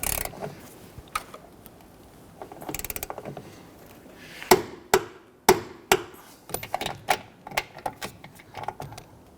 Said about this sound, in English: Let's go ahead and torque the upper bolts to 66 foot-pounds.